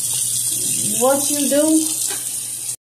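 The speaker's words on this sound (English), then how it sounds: "But you gotta keep rinsing it." A razor is rinsed under a running bathroom tap, giving a steady rush of water throughout. A voice speaks briefly over it in the middle, and the sound cuts off abruptly at the end.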